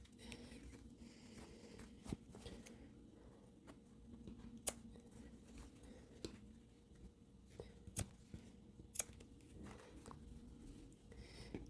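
Faint scissors snips cut notches and trim away excess material for a craft project, coming as sparse, soft clicks over a quiet, low background hum.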